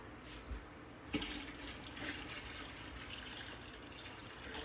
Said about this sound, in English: That is my last quart of water there.